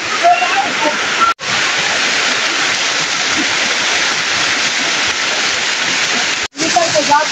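A waterfall at Bilawa Hot Spring in Barangay Mainit, Maco, Davao de Oro roars loud and steady, a thick wall of crashing water with faint voices just audible at the edges.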